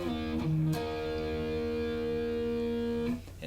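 Distorted electric guitar playing power chords, a sustained E5 sliding down into a held D5 with buzzing harmonics, ringing steadily for about three seconds before cutting off, played alone.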